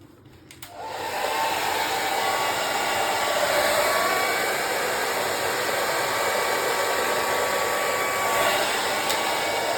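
A hair dryer blows across an acrylic paint pour on canvas, switching on after a short quiet moment and then running as a loud, steady broadband rush of air for the rest of the clip.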